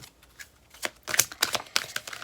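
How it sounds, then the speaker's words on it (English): Tarot cards shuffled by hand, a quick run of crisp riffling flutters and soft slaps, close and fairly loud, with no one speaking. "I'm just going to shuffle on camera"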